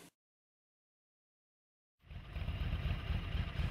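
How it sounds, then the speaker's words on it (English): A Yamaha Wild Star motorcycle engine starts up after a second of silence and settles into a steady, loud, close idle with a deep low rumble and no voices. "After the engine has idled for 30 seconds, turn the engine off"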